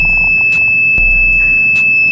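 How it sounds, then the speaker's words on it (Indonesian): An alarm buzzer in an automatic fan circuit sounds continuously at a steady high pitch, with faint clicks and brief beeps over it, loud and close, no talk. "buzzer menyala dengan continuous secara terus-menerus"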